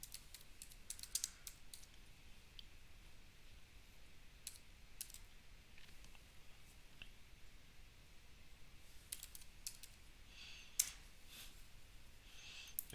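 Typing on a computer keyboard in a quiet room, with irregular bursts of light key clicks and short pauses between them, faint and close.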